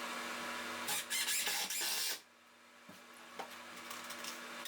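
A power driver runs screws into 2x4s in short trigger bursts, a loud close whir of about a second then a sharp cut to quiet, followed by faint small clicks and handling noise.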